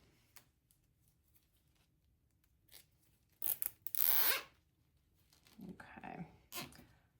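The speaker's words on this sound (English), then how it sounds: "Pinch it and then zip tie it." Quick ratcheting rasp of a zip tie being cinched tight around gathered material for a Valentine's Day wreath, a short burst standing alone in a quiet room, followed by a couple of softer rustles.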